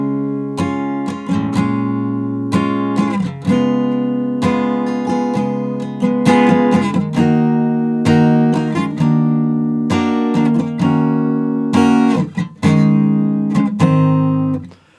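Acoustic-style guitar in standard tuning playing the verse of a song, a clear close strummed chord progression with ringing sustained notes, no talking.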